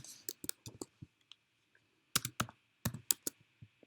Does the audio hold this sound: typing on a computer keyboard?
yes